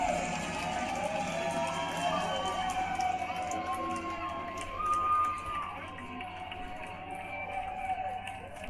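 Outdoor crowd cheering and applauding the arrival of drag queens, a continuous roar of voices, whoops and clapping that swells midway and stays loud throughout.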